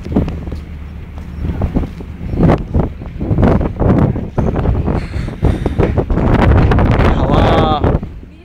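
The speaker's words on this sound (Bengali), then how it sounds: "হাওয়া।" Wind buffets the microphone on a boat during an Andaman tour, rumbling in loud uneven gusts that build toward the end, mixed with engine and water noise while people talk.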